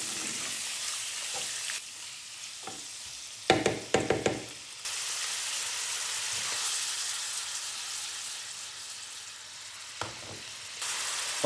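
Squid sizzles loudly in a pan with golden fried onion, a dense steady frying hiss that surges after a burst of clattering as the squid goes in, heard close without talk.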